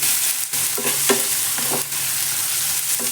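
Prawn masala fries in a pan while a spoon stirs it, giving a steady, loud sizzle broken by scraping strokes, with no voices.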